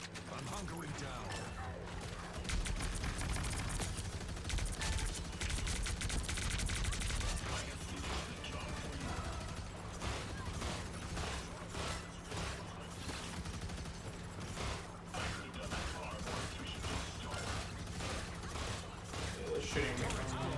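Gunfire in the Marvel Rivals video game: dense, continuous rattling bursts of shots, mid-distance and fairly quiet, layered over steady game ambience for the whole stretch.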